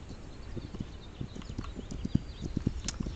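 Horse hooves clip-clop in a steady walking rhythm in the first-person western game This Land Is My Land, each hoof strike distinct and fairly close, with quiet ambient game sound underneath.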